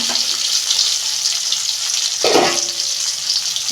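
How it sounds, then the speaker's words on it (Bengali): Pabda fish frying in hot oil in a home kitchen pan, giving a steady, loud, close sizzle with a brief burst of spattering partway through. "তেল গরম হয়ে গেছে মাছগুলো আমি ভেজে দিচ্ছি"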